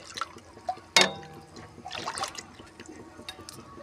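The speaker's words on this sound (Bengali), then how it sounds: "দেখুন আমি ওর মধ্যে দিয়ে দিচ্ছি ধুয়ে রাখা ডালিয়া" Washed dalia and mung dal are tipped into a pot of hot water, making a soft splash and pour with a short burst near the start and a second smaller one later, faint and close with no talk.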